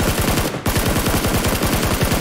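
Rapid automatic gunfire from PUBG on Xbox rattles in a steady, loud stream of evenly spaced shots, with one brief gap near the start.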